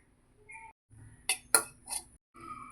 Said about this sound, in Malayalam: ആദ്യം മല്ലിപ്പൊടി 2 സ്പൂൺ ഒന്ന് വറുത്തെടുക്കാം.